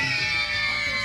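Crowd of school children shouting a cheer together, a loud sustained yell lasting about a second.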